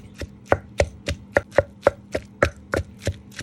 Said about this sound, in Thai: ตำหยาบๆพี่น้องก็ต้องตำละเอียดก็ได้